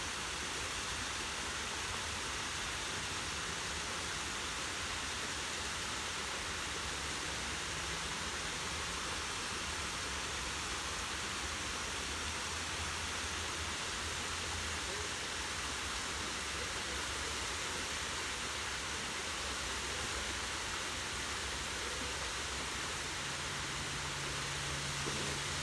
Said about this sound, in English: continue enjoying the sound of the water